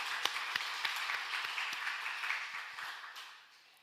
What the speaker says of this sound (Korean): 이 땅에 우리 주님 보내주신 하나님께 영광의 박수로 영광 돌립니다